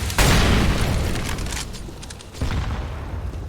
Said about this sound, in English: nice nade actually